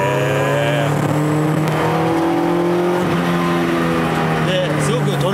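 Toyota AE86 with a carbureted 4A-G engine driving at Tsukuba Circuit, a loud sustained engine note climbing and shifting pitch through revs, heard from the cabin while people talk over it.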